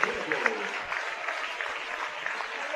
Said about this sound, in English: they're going to get a hand from the crowd and from the students behind them in their final high school performance